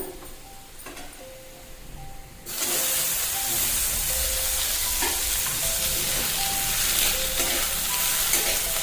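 Tomato frying with onions in a pan, a loud, steady sizzle that bursts in abruptly and then hisses evenly throughout, with faint clinks underneath.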